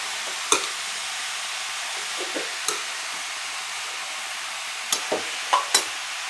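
Fresh coriander is stirred into radish chutney frying in a pan: a soft, steady sizzle runs throughout, punctuated by several sharp spoon scrapes and knocks against the pan, clustered toward the end.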